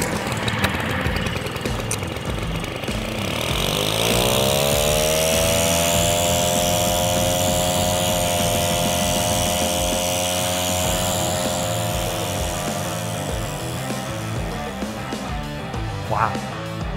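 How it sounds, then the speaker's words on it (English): A lightweight Air Force hover mower runs with a steady, loud engine drone and rising harmonic whine that holds for most of the stretch, with a brief spike near the end. "This easy to use, lightweight hover mower is a game changer for any operation."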